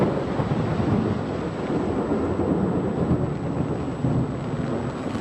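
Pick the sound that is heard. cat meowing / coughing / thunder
thunder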